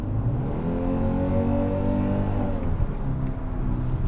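A 2023 Kia Sportage's 2.5-liter engine revs up high in sport mode, a steady climbing drone heard from inside the cabin that eases off near the end, moderately loud with no talk.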